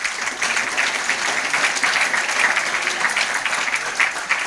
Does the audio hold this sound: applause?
yes